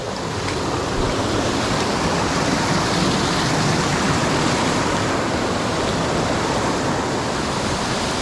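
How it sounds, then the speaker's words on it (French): A mountain river waterfall roars in a dense, steady wash of broadband noise, loud and close, unbroken for the whole stretch with no voices. "On a une belle cascade qui nous attend."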